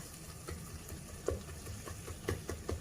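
Onions for biryani gravy frying in oil in a pan, a steady close sizzle broken by several soft scraping knocks of a spoon stirring them, no talking.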